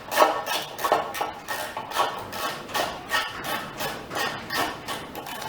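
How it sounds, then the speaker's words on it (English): Repeated metallic clicking and ratcheting from a socket extension tightening a bolt on a Victa lawn mower, a steady series of close, moderately loud taps with no talk. "I'm just going to get my extension and do that bolt back up again"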